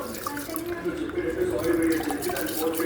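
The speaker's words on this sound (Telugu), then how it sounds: "చూడండి, బియ్యం చాలా బాగా కడుక్కోవాలండి." Basmati rice is washed by hand in water, with a soft swishing and dripping of water and grains in a bowl, heard close up beneath a talking voice.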